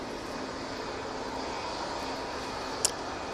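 Distant, even jet roar of a Ryanair Boeing 737-800 departing Manchester Airport for Agadir, a soft continuous wash of engine noise broken by one brief sharp click near the end.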